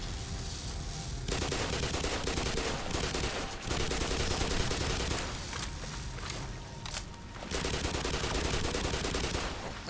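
RPG rocket launcher fire in Black Mesa, with several loud bursts of booming, roaring blasts separated by brief quieter gaps.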